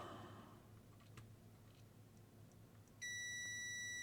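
A multimeter on continuity mode sounds a steady electronic beep while probing a Game Boy Advance circuit board; after a quiet stretch of faint clicks, the tone starts abruptly and holds clearly to the end.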